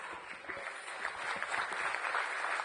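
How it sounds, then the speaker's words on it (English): Audience applause at a stock exchange listing ceremony on stage, a steady dense wash of clapping, moderately loud and continuous throughout. "So let us have a round of applause"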